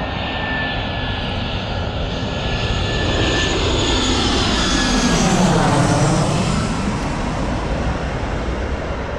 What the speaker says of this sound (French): on va attendre un atterrissage